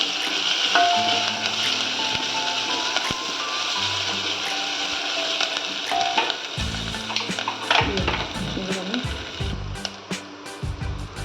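Ingredients for Tamil-style dal fry sizzle steadily in a hot pan, a continuous frying hiss with occasional stirring scrapes and clinks of a utensil, close and moderately loud, with no talking.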